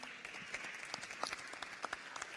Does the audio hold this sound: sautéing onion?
no